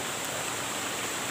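Steady broadband rush of a mountain stream at Mount Balagbag, water flowing continuously and close by with no pauses or talk.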